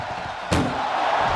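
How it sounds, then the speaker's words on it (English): A wrestler slams an ambulance door shut during a WWE Raw ambulance match, a single sharp loud bang at mid-clip followed by sustained arena crowd roar. "Desperately trying to close the first of two doors."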